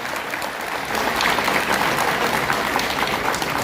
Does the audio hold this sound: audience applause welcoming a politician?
yes